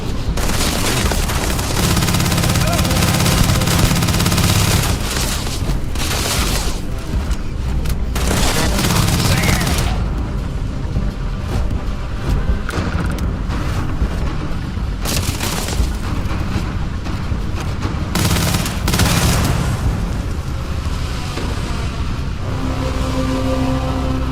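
A video game battle erupts in a loud, continuous volley of gunfire mixed with booming impacts and rumbling engines, with brief lulls and a voice speaking over it now and then.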